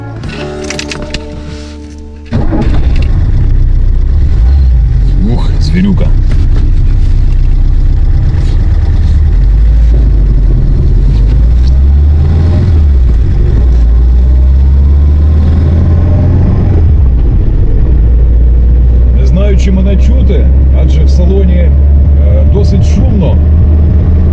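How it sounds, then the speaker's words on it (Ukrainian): Old VAZ car engine starting up, then running loud and close as the car drives off, with a steady rough drone that rises and falls. "Мотор шумить"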